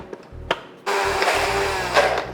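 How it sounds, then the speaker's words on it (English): Kitchen blender whirs through a falafel mixture, starting with a few short clicks and bumps, then switching on into a loud, steady grinding roar that continues to the end, with no talk. "Now into the blender to create this amazing mix of falafel before we fry them."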